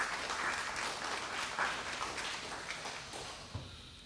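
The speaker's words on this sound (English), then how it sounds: "Let's give them a round of applause." Applause from a lecture audience at a memorial lecture, steady, moderately faint clapping from a roomful of people that thins slightly toward the end, with no talking.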